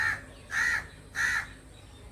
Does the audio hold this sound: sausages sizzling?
no